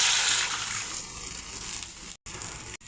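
Hot water poured into a pan of curry to make the gravy, a brief close splashing gush that eases off, then two abrupt cut-offs near the end, with no talking.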